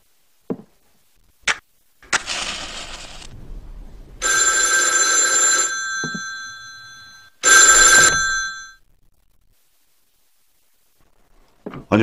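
Telephone bell ringing in several bursts, loud and close, with short clicks and pauses between the rings in an otherwise quiet room.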